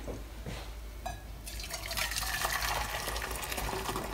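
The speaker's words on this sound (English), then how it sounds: "I'm going to add the water into here." Water poured into a mixing bowl of cake batter for mini white chocolate and orange cakes, a steady close splashing pour that grows fuller and louder after a short start, with no voices.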